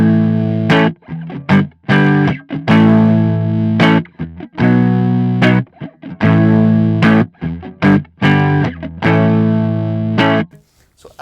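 Electric guitar played through an EHX Nano Lumberjack overdrive pedal, loud saturated chords and notes struck in bursts with brief gaps, sustained distorted tone close and without talk.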